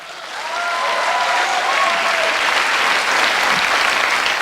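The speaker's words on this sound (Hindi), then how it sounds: "इस पर तालियां बजाओ।" A crowd bursts into sustained, loud applause that holds steady for several seconds, with a few voices faintly mixed in.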